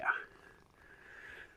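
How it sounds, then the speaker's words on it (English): A cat purrs softly against a microphone worn on a person's chest, a faint low steady rumble lasting under two seconds, very close and quiet. "Oh, listen to that purr."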